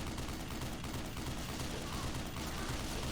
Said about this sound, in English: turret gun.